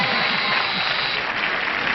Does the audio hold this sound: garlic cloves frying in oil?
no